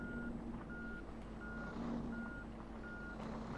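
A truck in the Truckers of Europe 3 driving game backs up to a trailer, its reversing alarm beeping in a steady repeated rhythm over a low engine rumble, with no talk.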